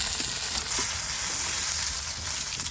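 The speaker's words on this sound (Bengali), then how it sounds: "এখন এই করে ভেজে নিব।" Banana-leaf wrapped parcels (kola pathuri) frying in a pan make a loud, dense, steady sizzle with a few soft knocks. It is heard close up and without talk.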